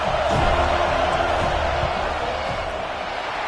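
Steady stadium crowd roar in a football video game during a field goal attempt, a dense wash of voices holding at a constant loud level throughout with no clear peaks.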